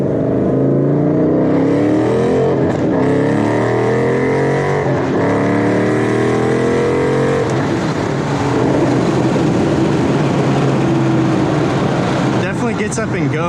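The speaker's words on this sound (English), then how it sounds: "that kind of gave you guys a quick sound of what my exhaust is" A Ford Mustang 5.0 V8 engine revs and accelerates hard with a deep, throaty exhaust rumble rising through the gears, loud and close throughout.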